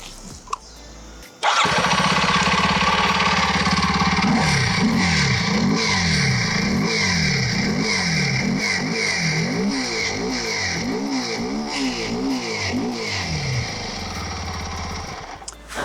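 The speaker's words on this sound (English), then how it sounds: "let me give you a quick listen to the exhaust note of this motorcycle." A Kawasaki KLX 230 motorcycle starts up with a sharp burst, then its exhaust note alternates between a steady idle and repeated throttle blips, each rev rising and falling in a rhythmic pattern, close and loud with no talking.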